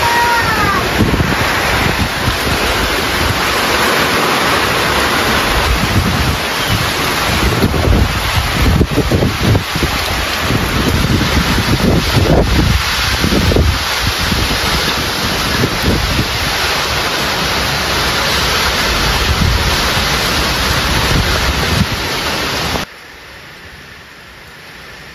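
Strong typhoon wind roars and buffets loudly and continuously outdoors, gusting hard against the microphone for most of the recording before abruptly dropping away near the end.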